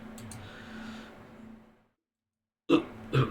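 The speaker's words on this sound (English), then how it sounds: "Hiccup." Two loud, close hiccups come in quick succession at the end, after a stretch of low murmuring background noise and a brief silence, recorded in a podcast setting.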